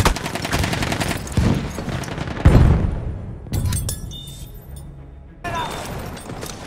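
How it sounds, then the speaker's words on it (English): A grenade goes off amid Battlefield 1 combat, a heavy low boom landing among constant loud gunfire and battle noise, with the mix dropping away briefly and then resuming. "Throwing a grenade!"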